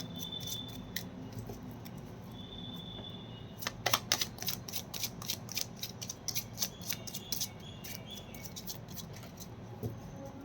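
A deck of tarot cards is shuffled by hand, with quiet handling at first, then a run of rapid, crisp riffling clicks and flicks that fades into scattered taps.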